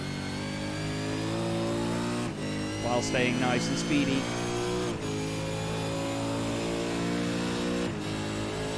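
In a racing video game, a supercar engine drones and revs at Montreal, with gear shifts and dips in pitch as it runs through chicanes. Someone talks over it.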